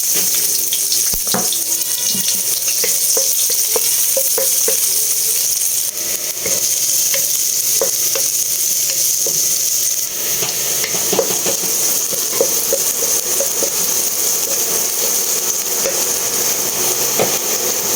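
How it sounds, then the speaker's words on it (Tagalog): Garlic and onion hit a pan where marinated chicken with cauliflower is cooking, producing a loud, continuous sizzle with stirring scrapes and spattering throughout, and no one speaking. "Lagyan muna ako ng bawang at sibuyas."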